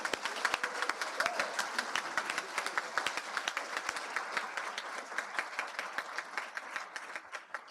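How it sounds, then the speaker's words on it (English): An audience at an awards ceremony applauds, dense rapid clapping that holds steady from start to finish, close and fairly loud. "How about one last round of applause to all of these folks?"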